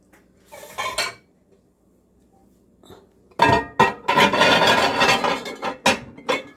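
Glass jars holding a little water are handled before microwave sterilization, with a short clink early on, a pause, then a loud run of knocking, rattling glass and hard clatter up close.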